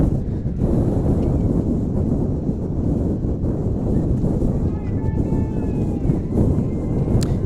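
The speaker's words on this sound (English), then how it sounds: "it is a windy one out here" Loud, steady wind buffeting a microphone at an outdoor youth football game, a constant low rumble that drowns most other sound, with a faint whistle near the end.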